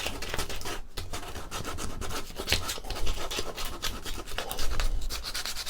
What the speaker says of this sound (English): getting in here with fingers and scuffing up where I think fingers are likely to have been